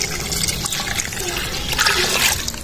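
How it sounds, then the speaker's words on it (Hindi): Water poured into a pot of Afghani beef namkeen gosht (beef rosh) in a village kitchen, a steady close splashing and trickling that runs the whole time without pause. "आखिर में जी डाला जाएगा पानी"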